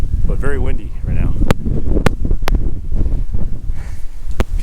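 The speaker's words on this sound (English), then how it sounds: "Amazing up here, but very windy right now." Strong wind buffets the microphone on a mountain summit in Shenandoah, making a loud, continuous low rumble with a few sharp gust pops while a person talks over it.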